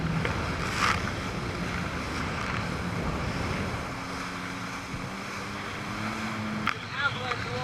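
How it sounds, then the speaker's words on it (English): Big surf rolls toward a beach, a continuous heavy rush and wash of breaking water mixed with wind buffeting the microphone, with a low engine hum and a brief splash near the end. "Avalanche of water"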